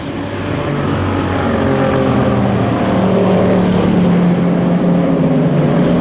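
Racing cars roar past at Spa-Francorchamps during an endurance race, a loud, steady engine drone that swells and holds as the cars go by, with no voices over it.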